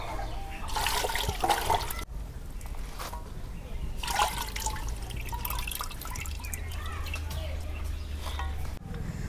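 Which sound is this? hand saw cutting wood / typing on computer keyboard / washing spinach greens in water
washing spinach greens in water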